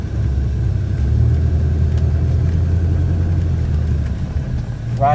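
A 1982 Corvette with an automatic transmission rumbles steadily from inside the cabin during a ride, a deep continuous engine drone holding even throughout.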